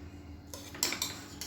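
A spoon scrapes and clinks against a pot while mint rice is gently turned over, a few soft metallic taps and scrapes close by, with no talking.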